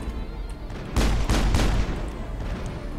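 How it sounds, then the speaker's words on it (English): Enemy gunfire in Mass Effect: a short cluster of loud, sharp shots in quick succession, rising out of a steady background rumble and then fading back. "Oh, we're being shot at."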